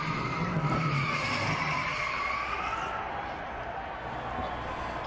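NASCAR race car spinning out at Dover, tires skidding and squealing over a roaring engine, heard from a distance through track ambience and crowd noise.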